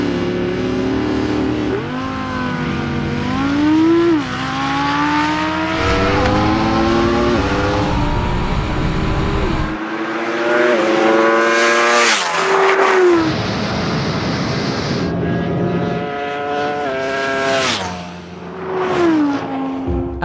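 An Audi V10 car and a Ducati V4 motorcycle launch side by side in a drag race, loud engines revving hard with rising and falling gear-change sweeps, screaming upshifts and brief dips between gears over twenty seconds.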